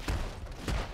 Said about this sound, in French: Là, une explosion de sang.